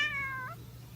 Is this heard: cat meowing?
yes